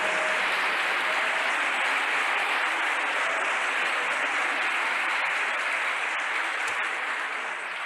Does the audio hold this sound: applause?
yes